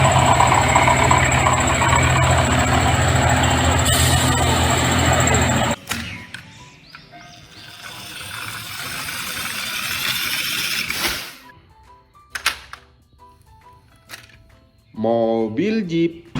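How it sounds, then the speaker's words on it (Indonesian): A truck engine idles in a steady, loud rumble for the first several seconds, then cuts to quieter mixed noises with brief clunks and a short rising tone near the end. "Mobil truk."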